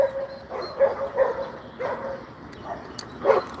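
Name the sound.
dogs barking loudly behind porches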